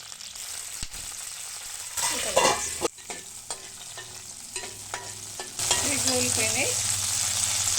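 Green chillies frying in a spoonful of oil for pachimirchi pachadi sizzle and crackle softly, with a few sharp stirring scrapes and a louder burst of spitting sizzle toward the end.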